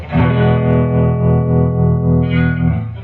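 A 1967 Gibson Trini Lopez electric guitar with factory Bigsby rings out a distorted sustained chord with heavy effects, holding steady before a brighter strum near the end.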